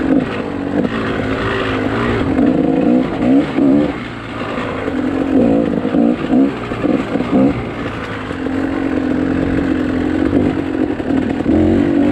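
A GasGas motorcycle engine revs up and down loudly and close, with dips where the rider works the clutch and shifts gears before pulling away again; no talking.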